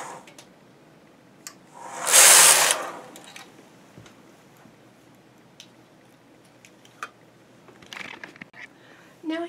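A knitting machine drops pile-knit stitches off the main bed with one loud rasping sweep of about half a second, followed by faint scattered clicks and light handling noises.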